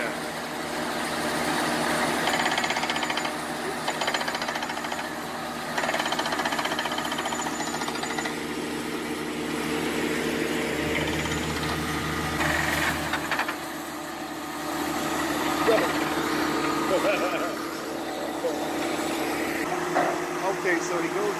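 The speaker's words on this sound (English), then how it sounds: "This is drilling down." Well drilling rig boring down on a hemp farm, a continuous loud mechanical grinding and hammering with engine rumble, fluctuating in intensity, while people talk over it.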